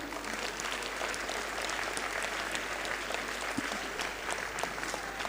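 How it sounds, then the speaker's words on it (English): Schoolchildren applauding at a school musical's acknowledgements ceremony, producing a full, sustained patter of many hands clapping with a few sharper claps standing out. "Come on, children, you can clap."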